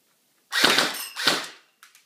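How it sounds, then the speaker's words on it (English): A B500A1 Pro BB gun firing on full auto, two sharp rattling bursts close by with a faint clatter of BBs after, no talk. "So let's fire some full auto shots."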